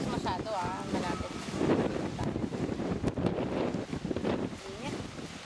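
Wind blowing in a park, buffeting the microphone with a steady rushing roar while several people talk over it.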